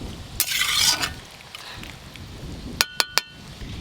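Vegetables for lau shukto stirred in a pan, a scraping swirl early on, then three sharp clinks of a utensil against the pan near the end, close up with faint frying beneath.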